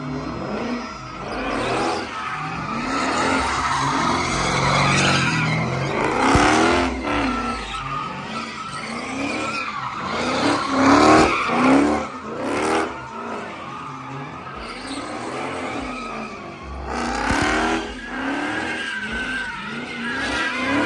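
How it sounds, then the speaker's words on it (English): A 2012 Dodge Charger pursuit car with traction control off slides on an open differential, its engine roaring and surging while tires squeal and skid continuously, loud and close with no talking. "And this is sliding on an open diff."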